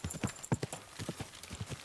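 A horse's hooves clip-clop in an uneven walking rhythm during a ride in the video game Kingdom Come: Deliverance II, with soft, fairly faint steps and a bit of background ambience.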